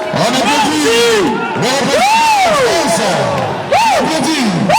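An audience at a political rally meeting in Brussels cheers and whoops loudly, with chanting voices and a lively crowd roar sustained throughout.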